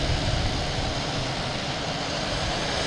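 An airplane passing very close at Boston Logan Airport, a loud steady engine roar filling the whole moment with no break, heard alone.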